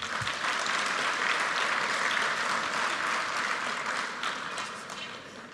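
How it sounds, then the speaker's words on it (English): An audience at a fintech conference gives a big round of applause, dense even clapping that holds steady before gradually fading toward the end. "a big round of applause for sir"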